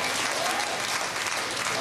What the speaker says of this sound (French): Par applaudissement, combien de monde ici pense qu'on atterrit sa Lune?